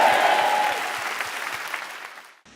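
A church congregation claps loudly together during a service, a dense burst of applause that gradually thins and fades before cutting off.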